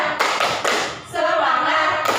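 A classroom tepuk semangat clapping routine, with a few sharp rhythmic hand claps and taps up close, followed by voices chanting together.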